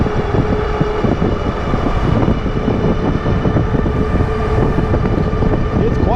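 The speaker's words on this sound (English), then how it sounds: "you guys can hear it. The motor's on the hub in the back" Electric bike with a rear hub motor, heard while riding at speed: a constant, loud whirring hum with steady tones, mixed with wind and road rush, with no break throughout.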